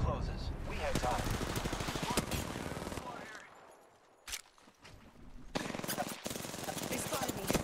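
Rapid weapon fire from an Apex Legends battle royale match comes in dense bursts of close shots, then a lull broken by a single loud report, and then heavy firing again.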